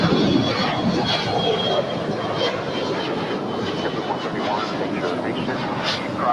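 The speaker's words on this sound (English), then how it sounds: "Air Tahiti Dreamliner just landing here on 25 left." An Air Tahiti Boeing 787 Dreamliner lands on runway 25 left at LAX and taxis toward the gates, making a steady distant engine roar and rumble with faint radio chatter over it.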